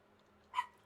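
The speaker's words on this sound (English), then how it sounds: "They're out in the garden and they are barking." A single short dog bark sounds from outside in a garden on a hot day, faint and distant against a quiet background.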